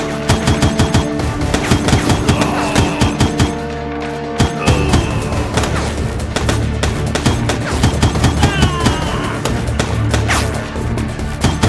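Rapid gunfire in a Foreclosed shootout, loud close bursts of automatic shots hammering almost without a break, with a brief lull partway through and some impacts and clatter mixed in.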